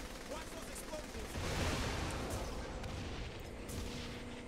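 Grenade explosions in the video game Saints Row 3 boom through dense, sustained gunfire-like noise, loud and continuous with a swell in the middle, alongside a chaotic firefight.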